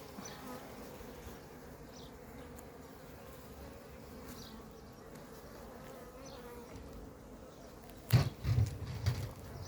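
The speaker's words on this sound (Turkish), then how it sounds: "Arılar biraz rahatsız oldu." A steady, dense buzzing of many disturbed honeybees around an opened hive fills the scene, with a few louder bumps and thuds near the end.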